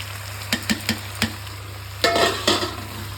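Paneer and red lobia beans sizzle in a hot pan while a spoon stirs them, with a few sharp scraping strokes followed by two longer frying hisses over a low background hum.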